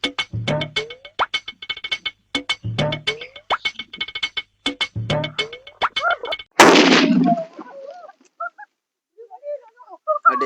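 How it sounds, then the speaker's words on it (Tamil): A sharp burst of crackling from a Lakshmi firecracker, preceded by rhythmic tapping and followed by scattered squeaky chirps fading away. "லட்சுமி போட்டு லட்சுமி வெடியா வெடிக்க போறோம் நாங்க"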